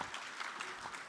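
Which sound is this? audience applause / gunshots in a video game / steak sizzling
audience applause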